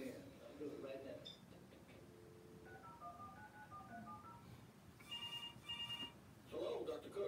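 A telephone sounds in short repeated electronic tone bursts, faint and somewhat distant, under a low background of voices and room noise.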